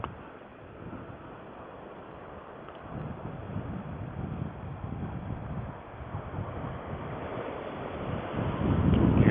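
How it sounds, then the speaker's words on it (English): Wind buffets the microphone on Aldwick Beach as waves wash in the background, a continuous rushing roar that swells louder toward the end, with no voices. "This is Aldwick Beach. Over there is Pagham Beach."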